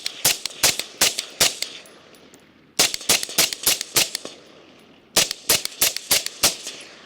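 A Cobalt Kinetics rifle fitted with a Dead Air Sandman suppressor fires at night in three quick strings of sharp, muffled shots, each burst of several rapid cracks separated by brief pauses.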